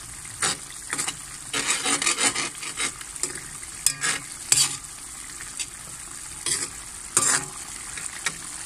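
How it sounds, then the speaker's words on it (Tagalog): Sarciadong tilapia with pepper stirred in a frying pan: soft background sizzle broken by repeated scraping spatula strokes in irregular bursts, close and alone. "Haluin lang po natin ulit."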